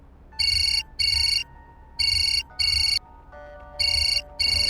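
Paired electronic bursts of a mobile phone ringtone repeat at a steady pace, loud and close, without any voices.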